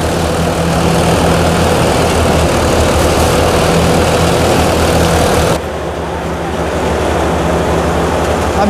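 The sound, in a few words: John Deere 63 hp tractor running with combine harvester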